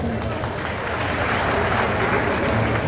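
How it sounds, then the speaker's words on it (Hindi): Dense, loud applause from a large crowd at a district foundation day celebration in Arwal, a sustained wash of clapping with no breaks across the whole stretch, with crowd noise mixed in. "तालियां बजनी चाहिए।"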